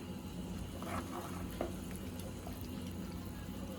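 Water is poured into a pan of quail gravy during home cooking, giving a steady, continuous liquid rush with faint splashes and sizzle, heard alone throughout.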